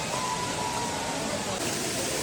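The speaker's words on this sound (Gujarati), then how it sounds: "આવાજ સંભળાય છે ને, ઝરણા છે." A stream or small waterfall runs beside the road to Dang, a steady broadband rushing wash that stays fairly faint and unbroken throughout.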